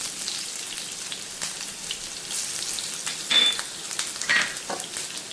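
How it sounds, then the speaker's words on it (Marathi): Chopped onion and green chillies dropped into hot oil, a dense close hiss of frying like steady rain with a few louder crackling bursts, and no talking. "तेल गरम झाल्यात मी आता मिरच्या घालून घेतल्या. मिरच्या घालून घेतल्यानंतर मी आता चिरलेला कांदा घालतो"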